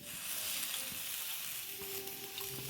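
A potato filling fries and sizzles steadily in a hot pan on a gas stove, with soft stirring scrapes over a constant close crackle; no voices.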